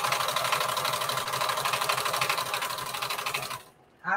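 A sewing machine stitches fabric for a patchwork bandana dress, a close, fast, steady mechanical whirring chatter that stops abruptly near the end, followed by a faint brief rustle.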